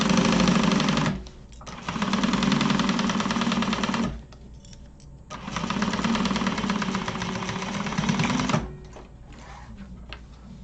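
A sewing machine runs in two long bursts of steady, fast stitching as it back stitches across a bag, each run stopping abruptly with a quieter pause between them; close and fairly loud, no talking.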